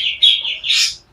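A white-rumped shama, a forest-caught murai batu, sings close by in a clear, loud phrase of bright whistled notes rising into a fuller flourish, with no talking.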